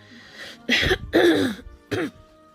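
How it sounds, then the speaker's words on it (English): Three harsh, throaty coughs in quick succession, close and fairly loud, with short pauses between them. "Cough break."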